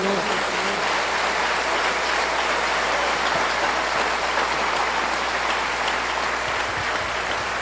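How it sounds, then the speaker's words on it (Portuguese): Church congregation applauding at a worship service, a dense, steady wash of clapping that fills the space from start to finish with no break. "Podemos aplaudir o Senhor?"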